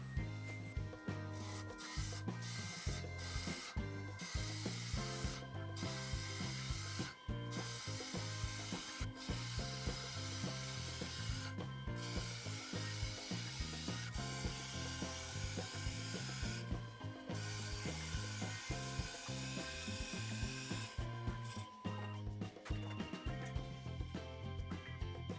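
A wooden lid for a kitchen pail spins on a lathe while a cutting tool bites into it, giving a continuous scraping, rubbing roar with rhythmic clatter and brief dips where the tool lifts off, close and loud throughout.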